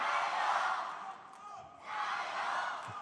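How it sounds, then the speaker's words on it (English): Crowd cheering at a world taekwondo championship semi-final or final match in Wuxi. Loud, broad roar that swells, dips briefly in the middle, then rises again. "big cheers from the crowd"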